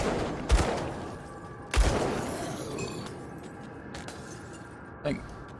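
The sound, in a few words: gunfire in the Grim Dawn video game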